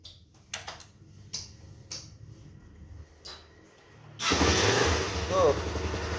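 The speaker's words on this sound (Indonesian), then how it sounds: "Langsung aja kita cek sound di bagian mesin teman-teman." A 2010 Honda CBR motorcycle engine in original condition fires up after a few clicks and voices, then runs loud and close with a rough, steady roar for the final two seconds.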